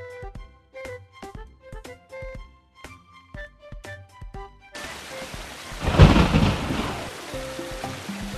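Heavy rain hisses down after a short musical passage, then a loud crack and rumble of thunder breaks through, with the downpour continuing steadily and no talking.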